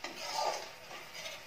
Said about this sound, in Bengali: মশলাটাকে খুব ভালোভাবে কষিয়ে নেব